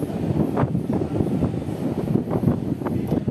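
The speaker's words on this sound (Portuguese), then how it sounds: "tá ventando muito" Strong wind at Praia do Forte beach in Cabo Frio buffets the microphone, producing a continuous low rumble with gusty fluctuations throughout.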